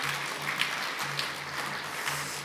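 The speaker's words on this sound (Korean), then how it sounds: "우리 사랑과 축복의 박수로 환영하시면서" Applause in a Korean church Sunday service as the congregation stands to welcome newcomers, a steady wash of many hands clapping at moderate volume throughout, with no talk over it.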